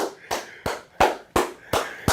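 A man claps his hands alone after Michigan beats Nebraska, seven sharp claps in a steady rhythm, close and fairly loud.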